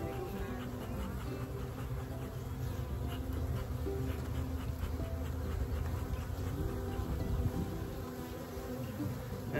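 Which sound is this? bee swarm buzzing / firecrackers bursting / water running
bee swarm buzzing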